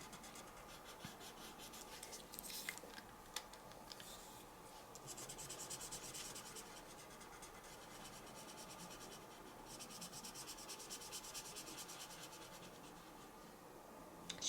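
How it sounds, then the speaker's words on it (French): A green colored pencil scratches across paper while coloring a snake drawing, giving soft, steady rubbing strokes heard close and quiet, with no talking. "je commence avec son visage, avec le vert, et je colore."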